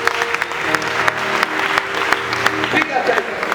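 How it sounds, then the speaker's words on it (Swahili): A church congregation at a Christian prayer service claps for Jesus, sustained dense applause with sharp irregular claps throughout, loud and close, with voices mixed in. "Pigia Yesu makofi."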